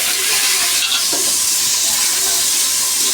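Whole spices (cinnamon, cloves, bay leaf) sizzling in hot ghee inside a pressure cooker, a steady loud frying hiss throughout with a faint stir partway through.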